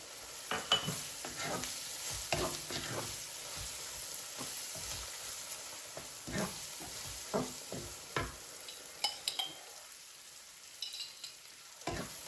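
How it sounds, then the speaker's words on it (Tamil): Bisibelebath masala fries in oil in a pan as a spoon stirs it, giving a steady near sizzle broken by repeated scraping strokes, which quieten toward the end. "இப்போ இந்த மசாலாவை ஆட் பண்ணிக்கலாம், பிசிபெலேபாத் மசாலா. அந்த எண்ணெயிலே கொஞ்சம் வதக்குங்க."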